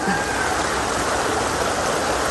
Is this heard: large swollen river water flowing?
yes